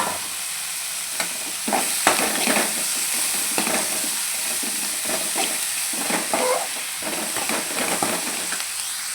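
Onions and tomato sauté for a Punjabi dhaba-style palak egg dish, giving a steady close sizzle and hiss broken by repeated scraping stirs of a spoon against the pan.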